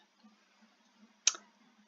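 A single sharp computer mouse click, close and crisp, standing alone in an otherwise quiet room with faint background hiss.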